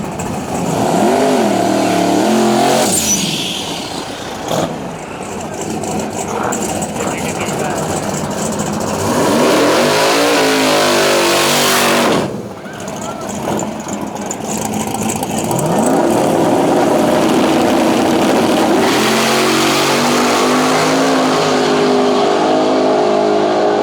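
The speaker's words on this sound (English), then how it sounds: "Jason White, big block, nitrous Nova against the twin turbo, small block Chevy powered, 57 Chevy" Nitrous big-block Nova racing a twin-turbo small-block '57 Chevy at a small-tire drag race, with loud engines roaring and revving across the run, rising and falling, while an announcer talks over them.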